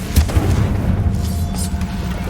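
A Confringo blasting spell from Hogwarts Legacy detonates in a short, loud booming burst, with a deep low thud and a brief rumbling tail, heard alone without speech.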